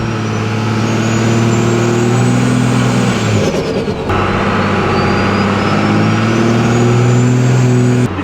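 Turbocharged truck engine revving hard, loud and close, with the turbo spooling up in a rising whine; the engine note climbs, drops around the midpoint, then builds again with the whine climbing back up.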